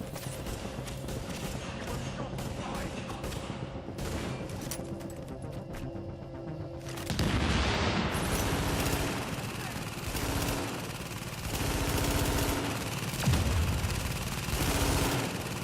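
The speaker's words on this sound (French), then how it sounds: "Elles sont impressionnantes leurs grenades incendiaires, hein. Elles font un bruit particulier" In the video game The Division, incendiary grenades go off amid combat: sustained crackling fire bursts, then a louder roaring, thumping stretch of explosions and gunfire, with voices talking underneath.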